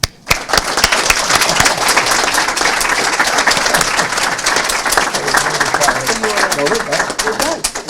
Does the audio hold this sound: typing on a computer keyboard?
no